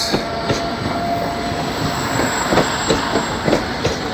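A train departing La Tor de Querol-Enveig station, including locomotives 111 and 093 heading toward l'Hospitalet de Llobregat: loud steady rolling rumble with rhythmic wheel clatter over rail joints and a faint high squeal, no voices.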